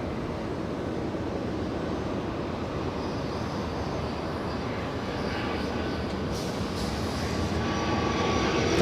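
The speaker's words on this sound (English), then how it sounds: "757 coming. It's a United." A United Boeing 757 airliner comes in to land at Los Angeles International Airport, its engines a steady, broad roar that swells slightly toward the end, heard from a distance.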